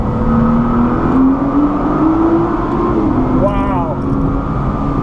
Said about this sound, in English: give you some of that GT-R heavenly sound. Give you a little bit of downshift here